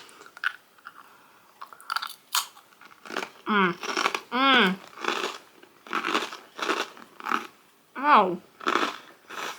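Crunchy Japanese soy sauce rice crackers being eaten up close, with repeated loud bites and chewing crunches in uneven bursts, a brief exclamation and some vocal sounds between them.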